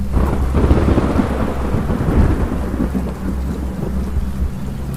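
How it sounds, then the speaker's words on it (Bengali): Heavy rain pours in an animated ghost cartoon, a loud, dense roar of falling water with deep rolling thunder rumbling beneath it throughout, and no voices. "বৃষ্টির বেগটা আরো বেড়ে উঠল।"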